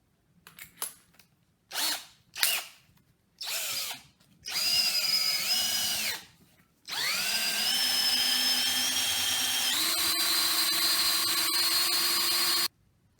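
Power drill boring a hole into a homemade wooden mace, starting in short stop-start bursts and then running in long continuous whines that shift pitch as the bit bites, close and loud with no talking.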